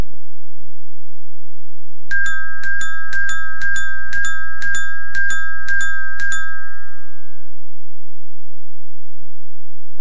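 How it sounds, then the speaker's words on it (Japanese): A bright bell chime on a Japanese quiz show rings repeatedly in an even rhythm, about nine strikes, loud and clear over a quiet low hum. "こういう形で鐘の音が聞こえてまいりました"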